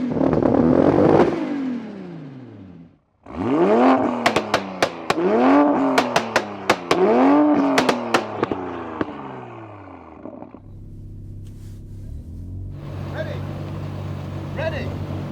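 A 700 HP Toyota Supra MK4 and a 550 HP MK5 Supra rev hard in turn, loud and close, with repeated rising-and-falling engine sweeps, crackling pops, and a lower steady idle near the end.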